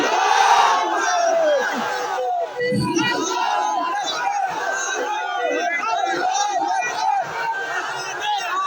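A large crowd roars a chanted slogan in unison at an outdoor Islamic religious gathering on a school field, a dense, loud wall of shouting voices that stays steady throughout.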